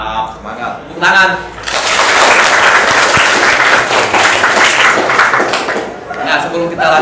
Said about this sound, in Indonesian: Nah, semangat. Tepuk tangan.